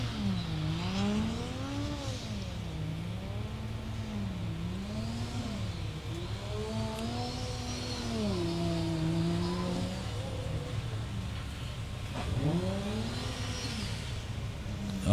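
Drift car engine revving hard during a qualifying run at Meremere Drift Park, New Zealand, its pitch rising and falling in repeated sweeping waves as the throttle is worked, heard steadily at moderate distance with no talking.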